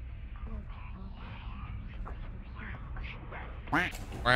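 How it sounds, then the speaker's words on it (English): Duck quacking in the horror game Tatari: The Arrival, a couple of short quacks near the end rising over a steady low hum and quiet background talk. "Quack, quack."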